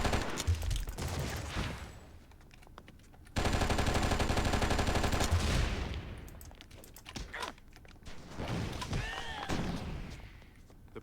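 Automatic gunfire in the game ONI: a sustained, loud burst of rapid shots in the middle, with scattered thuds, impacts and game effects before and after.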